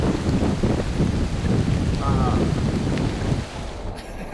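A storm of wind and rain lashes the Lofoten coast as a loud, continuous roar buffeting the microphone, easing slightly in the last second.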